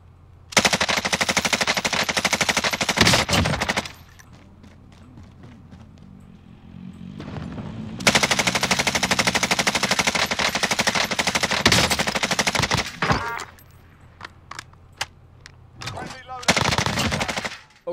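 In the video game Warzone, a Bruen Mk9 fitted with a monolithic suppressor fires in long, rapid automatic bursts, loud and close, separated by quieter gaps with scattered single shots.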